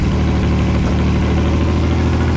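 A car engine idles steadily after being jump started with an AstroAI S8 Air portable jump starter, a loud, close, even rumble with no voices.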